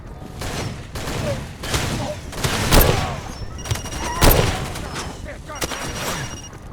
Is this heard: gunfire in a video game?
yes